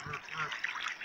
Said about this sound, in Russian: Вы слышите, как кричат эти сумасшедшие гуси?